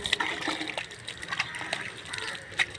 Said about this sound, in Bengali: এই যে পানি উঠতেছে,